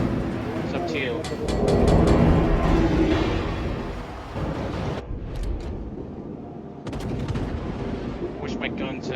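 The USS Kidd, an American Tier VIII premium destroyer in World of Warships, fires its guns in loud, rumbling booms that swell and fade over a constant engine and sea drone, joined by sharper cracks and brief game voice callouts.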